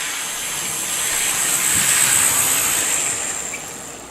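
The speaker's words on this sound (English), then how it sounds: "this locomotive is going to run a lot more noisy because I haven't quite finished the break-in period yet." An IHC 2-6-0 Mogul model locomotive, not yet broken in, runs on noisy model track, giving a steady close hiss and whir that swells slightly in the middle and then eases off, with no speech.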